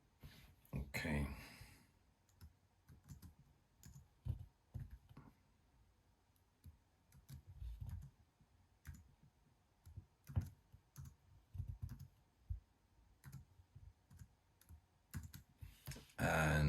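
Keys click softly in short uneven runs as a Wi-Fi password is typed on a MacBook keyboard, faint and close, with pauses and a little background noise between bursts.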